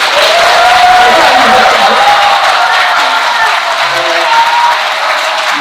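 An indoor audience at a political talk event breaks into sustained applause, dense and loud throughout, with a voice faintly heard beneath the clapping.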